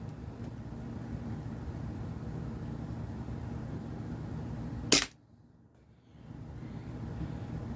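HFC DarkHawk gas blowback airsoft pistol running on propane and firing a heavy 0.90 gram steel BB: one sharp, loud crack over faint background hum, followed by a brief hush.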